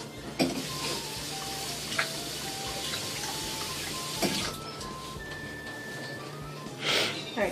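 Water droplets skitter and hiss on a hot, dry pan during a mercury-effect test before a steak goes in, a steady soft sizzle with brief louder spits, no talking.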